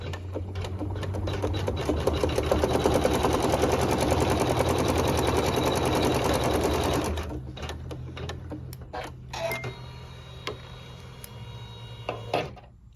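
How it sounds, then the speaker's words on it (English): A sewing machine stitches a seam through quilting fabric for a vintage butterfly block, running in a loud, steady rapid whir for about seven seconds, then slowing into short bursts and pauses with faint handling clicks. "I'm going to let the machine sew a seam"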